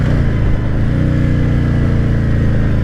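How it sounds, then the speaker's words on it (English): A Harley-Davidson Tri Glide Ultra touring trike with the Milwaukee-Eight (M8) engine rumbles at road speed, a loud, steady, deep throbbing drone with heavy wind roar and no talk over it. "I love the M8 engine."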